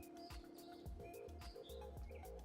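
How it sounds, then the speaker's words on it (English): Birds chirp and call outdoors in quick, repeated bursts of bright tweets, overlapping one another and fairly close, with no voices. "The birds have finally moved in and they are hollering again."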